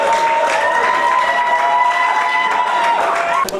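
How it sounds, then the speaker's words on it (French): Loud, sustained applause from a crowd at a town hall wedding, steady and continuous throughout, with cheering mixed in. "On applaudit pour Madame Lukombo, s'il vous plaît."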